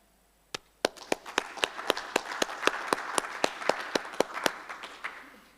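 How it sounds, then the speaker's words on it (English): Audience clapping after a scientific talk on a next-generation Very Large Array, a sparse, sharp pattern of individual claps that thickens into a light, uneven round from a small group, then fades out. "It's nice to hear real clapping."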